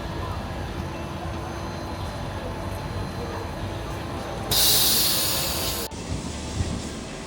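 A Lisbon tram rolls along a narrow city street, a continuous rumbling pass with a loud hissing, squealing burst of wheels or brakes midway before it cuts off, then a quieter rumble continues.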